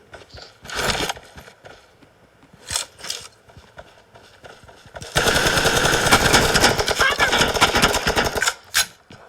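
Gunfire in a competitive video game match: a few short bursts early on, then a long, sustained rapid-fire stream of shots lasting several seconds, loud and close, with voices briefly heard in the background.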